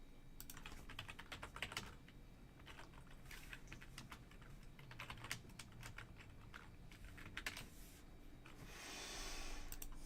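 Numbers tapped on a computer keyboard's number pad, a steady stream of quiet, close keystrokes over low background hum.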